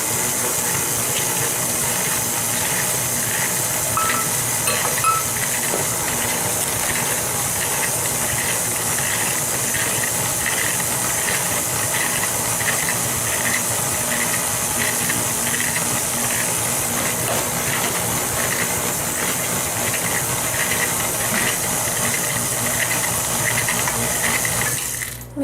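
An old KitchenAid stand mixer creaming butter with sugar for a cream cheese pound cake, a constant loud whirring hum with a faint rhythmic rattle, running unbroken throughout.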